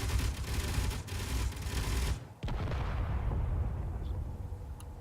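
Turrets on a spaceship in Space Engineers fire in a dense, continuous barrage of booming shots, loud and close, briefly cutting out midway before resuming.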